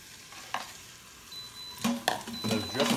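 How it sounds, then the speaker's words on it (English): Onions browning in chicken drippings on an Instant Pot's sauté setting, with a soft sizzle broken by several clattering stirs of a utensil against the pot, growing busier toward the end. "And I'm gonna brown these onions in that"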